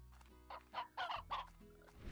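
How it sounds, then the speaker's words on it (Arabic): Several chickens cluck in quick bursts inside the video game Slime Rancher, a crowd of fowl close by, with a low game background hum underneath. "عندنا هنا زحمة دجاج"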